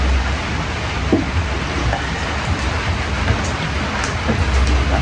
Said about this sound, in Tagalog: Ulan naman.